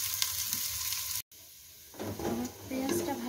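Chopped onions fry in oil in a pot on the stove, giving a steady soft sizzle with a brief gap, then stirring scrapes.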